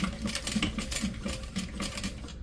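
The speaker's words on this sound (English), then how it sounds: "just back stitching a couple times" Sewing machine back stitching on custom fabric, a steady quick mechanical patter of needle strokes running continuously at close range.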